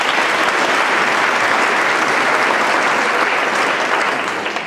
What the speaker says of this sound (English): Let's give all of our elected officials, community leaders, and public administration leaders a big round of applause.